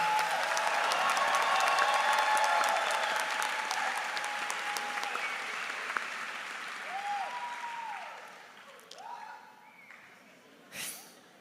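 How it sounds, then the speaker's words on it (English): A graduation crowd cheers and claps for the high school class of 2024, loud dense applause that gradually fades away, followed by scattered voices, breaths and a brief sharp noise near the end. "can we please all give another big round of applause to the Debakey class of 2024"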